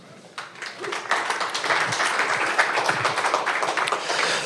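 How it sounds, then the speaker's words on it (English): Audience applause welcoming a speaker at a defense innovation panel on augmented and virtual reality: a dense, steady wash of many hands clapping that swells in after a brief quiet start and holds throughout. "Please give him a hand of applause"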